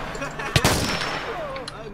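Gunfire in Minecraft on a zombie-infection Ao Oni mansion map, a sharp close burst of shots with a ringing tail, with players' voices in the background.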